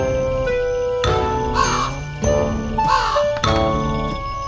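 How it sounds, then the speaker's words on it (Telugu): An animated folk story features a crow cawing in harsh, repeated calls, three clear bursts set against jingling, tinkling music. "ప్రతిరోజు ఉదయం కాకి అరవడం ప్రారంభించేది."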